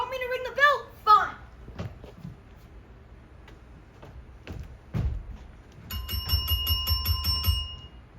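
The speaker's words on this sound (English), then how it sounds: "You want me to ring the bell?" A hotel doorbell rings near the end, a rapid series of bright metallic dings repeating over about two seconds, after a voice and some scattered knocks and bumps.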